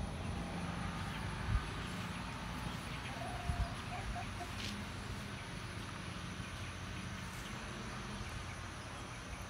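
Silkie chickens in a coop with a covered run give a few sparse, faint clucks over a steady broadband background hiss, with no voices.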